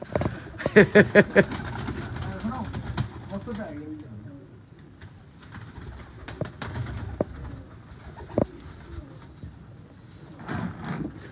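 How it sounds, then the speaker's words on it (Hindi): Teddy pigeons at a loft in Wassanpura coo and call in soft bursts, with occasional wing flutters and voices talking nearby. "सर ये टेडी कबूतर है, इसको हम कहते हैं फोर फ्रेंड"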